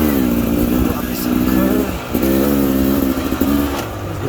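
A 2022 Beta Xtrainer dirt bike fitted with a fatty pipe revs steadily and loudly up close. The engine note dips and surges again midway, and a voice talks over part of it.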